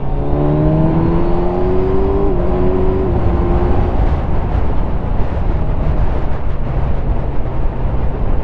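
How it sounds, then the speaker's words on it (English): A Honda CBR 1000F sport motorcycle rides past, its engine drone rising in pitch and loudness under a steady roar of wind and road noise, heard from another moving motorcycle. "Super Sport Honda CBR 1000F is behind me. I'll just let him go. Here he comes."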